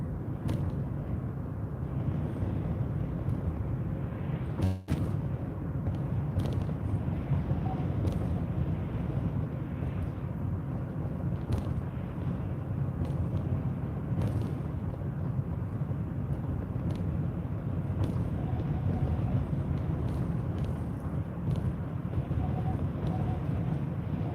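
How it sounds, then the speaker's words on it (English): Wind blowing after a storm in Faribault, Minnesota: a steady, broad rushing roar with microphone buffeting that continues throughout, with one brief knock partway through. "Looks like we got wind coming from the other direction now."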